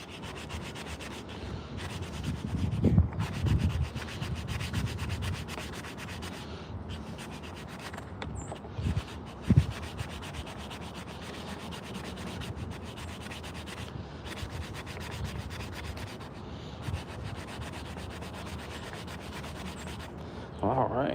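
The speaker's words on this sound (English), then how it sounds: "then start sanding on this half till you get that gentle downward turn." Hand sanding on a wooden coffee scoop makes quiet, close rubbing strokes, a continuous scratchy friction with a few firmer bursts spaced through the passage and no talking.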